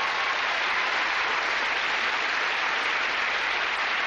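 Steady dense clapping from an audience congratulating a forward abseil rope rush record attempt in London, a continuous even wash of applause without a break.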